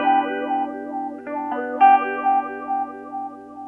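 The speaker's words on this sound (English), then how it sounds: "you get a nice subtle sound that lets you play real simple guitar parts that still have a lot of movement to them" An electric guitar runs through an Interstellar Watermelon filter pedal on a subtle setting, playing a few simple sustained notes whose tone sweeps gently in a steady wavering pulse, clean and close with no voices.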